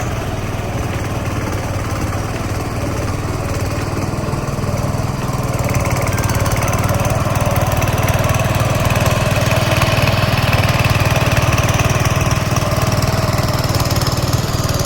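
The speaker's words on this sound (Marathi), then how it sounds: "पप्पा आणि मी असं मध्ये मध्ये ट्रॅक्टर चालवतो" A tractor engine runs continuously while working a muddy field, a loud, close, steady mechanical drone with an unbroken rumble lasting the whole stretch.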